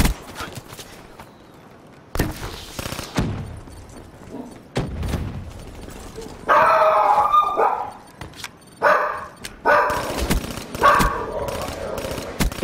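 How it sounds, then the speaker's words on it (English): A dog barks in the shooter game Call of Duty: Black Ops 3, several sharp loud yaps and barks scattered among gunfire and game effects. "my dog just keeps barking"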